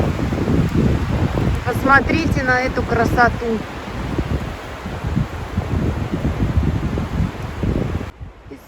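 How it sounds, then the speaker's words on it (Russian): Wind gusts sweep through a pine forest as a steady, broad rushing roar that swells and eases across the whole stretch, with a voice speaking briefly over it. "Послушайте порывы ветра."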